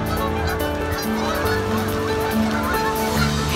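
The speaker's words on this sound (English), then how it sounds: "Here come the geese." A flock of geese flying high in V formation honks continuously, many overlapping nasal calls blending into a steady chorus.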